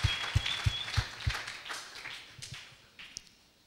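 Applause from a church congregation, a few distinct claps at first that build into a brief, moderate wash of clapping before thinning out.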